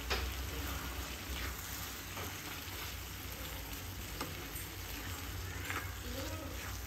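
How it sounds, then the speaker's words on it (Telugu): A prawn masala curry is stirred in a pan after salt goes in. It gives a steady, moderate frying sizzle with soft spoon scrapes throughout, and a faint voice murmurs in the background. "సాల్ట్ వేసుకున్నా కలుపుకుంటున్నా చూడండి."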